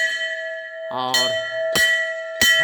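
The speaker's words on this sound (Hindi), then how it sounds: "घंटी की आवाज़ आपको सुनाई दे रही होगी। मंदिरों में घंट लटके हुए रहते हैं" A temple bell at a Surya temple rings in sharp metallic strikes, three clear hits with lingering ringing tones, while a voice briefly speaks between them.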